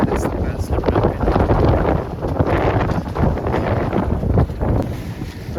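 Wind gusts roar steadily across a sailboat heading back to Seattle from Blake Island in windy conditions. Heavy, continuous rumbling buffets the microphone, and a voice speaks over it.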